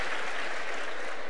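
Audience at a televised Spanish political debate between Albert Rivera and Pablo Iglesias breaks into steady, dense applause that fills the moment evenly, with no voices standing out.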